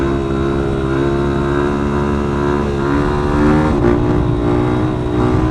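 A Yamaha WR450F fuel-injected dirt bike engine runs loud and steady close up, its pitch rising slightly as it revs midway, then settling back to a sustained drone.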